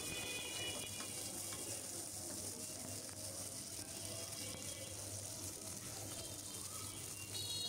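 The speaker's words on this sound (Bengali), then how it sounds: "তেলের মধ্যে সব কিছু আমি সুন্দর করে ভেজে নিচ্ছি" Sliced onions, green chilies and chopped garlic fry in hot oil, giving a steady, even sizzle with no breaks, close and moderately loud, with faint clinks from a utensil.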